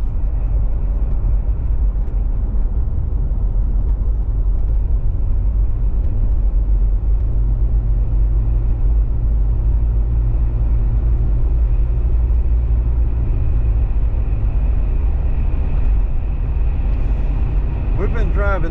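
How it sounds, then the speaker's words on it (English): A car rolling slowly along rural county roads in Dawson County, heard from inside as a loud, constant low rumble and engine drone that barely changes, with a voice talking over it. "Driving slow and very seldom gotten into overdrive since we filled up"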